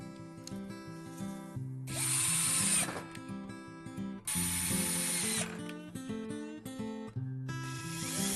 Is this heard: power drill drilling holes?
yes